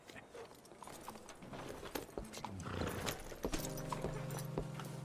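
Horse hooves clip-clop at a steady walking rhythm in the Red Dead Redemption 2 game world, moderately close and fairly quiet, with a sustained musical tone rising near the end.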